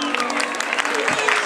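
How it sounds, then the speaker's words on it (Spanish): Brief burst of audience applause, many hands clapping together with faint crowd noise behind. "¿Dónde están los aplausos para Yamila?"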